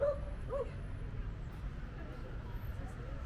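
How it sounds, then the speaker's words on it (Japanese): A large group of roughly twenty dogs plays in a Paris park, giving short yips, whimpers and an occasional bark at middle distance over steady outdoor ambience, with a voice talking. "たくさんの犬が戯れていました。"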